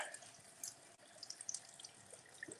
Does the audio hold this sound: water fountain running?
yes